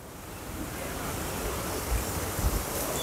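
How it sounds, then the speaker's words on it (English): A set of waterfalls splashes steadily in a garden wildlife habitat, a soft, even wash of falling water that carries on without a break, with a couple of faint low thumps and no one speaking. "there's one last set of waterfalls I want to take a look at."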